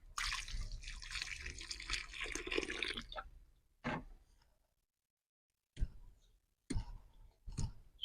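Water splashes and gushes out in a sustained pour for a few seconds, followed by a few short, separate splashes after a brief silence.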